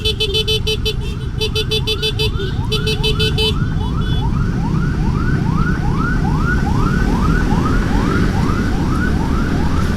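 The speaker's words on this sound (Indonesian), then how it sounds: "Ini ambulan yang tadi ya." Ambulance siren wailing on a congested road near an accident in Prambanan, a rapid repeating up-sweep that stays loud and close over steady traffic rumble, with brief high beeping bursts at the start.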